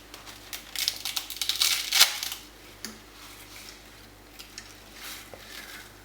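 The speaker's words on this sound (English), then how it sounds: "keep stirring it throughout, making sure that the pasta doesn't stick to the bottom" Spiced noodle soup with pasta being stirred in a pan, giving scraping and clinking pot-and-utensil sounds that bunch up over the first two seconds and then thin out to a few scattered clicks.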